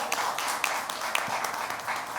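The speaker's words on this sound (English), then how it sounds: "let's make some noise and welcome them with a thunderous round of applause" Dense audience applause at a trailer launch event for a series, steady crackling clapping from a crowd with no gaps, moderately loud and sustained throughout.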